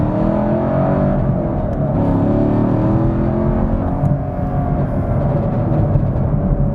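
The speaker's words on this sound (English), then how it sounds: "I don't know if you could hear the exhaust pops and bangs" A Chevrolet Camaro SS 1LE accelerates on an empty street with rev-matched downshifts, a loud, steady engine drone and exhaust roar heard from inside, with no clear distinct pops or bangs standing out.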